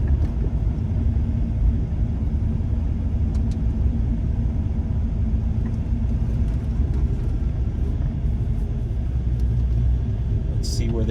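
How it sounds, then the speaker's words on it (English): Car with freshly tuned, leaned-out pipes idling at a morning car show, a deep, steady low rumble that holds an even throb throughout, loud and close with a few faint clicks near the end. "It's idling nicely."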